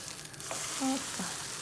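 Food frying in a pan in a home kitchen, a steady close sizzle with a faint brief tone in the middle and no talk.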